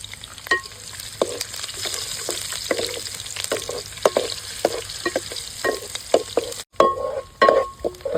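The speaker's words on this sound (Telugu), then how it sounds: "పచ్చిమిర్చి ఉల్లిగడ్డ బాగా వేగాయి" Green chillies, onion, fenugreek seeds, cinnamon and cloves frying in oil for a fish curry, a loud continuous sizzle with frequent scraping stirs of a spoon against the pan, close up.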